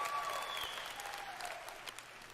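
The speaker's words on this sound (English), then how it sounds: "That's a big applause right there." Audience applause fills a large hall at the E3 2019 Bethesda showcase, a dense, steady wash of clapping that starts strong and eases slightly, with a faint synth tone gliding underneath.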